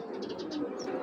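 Pigeons offered for sale coo softly, a short run of low rounded coos close by over a murmuring background.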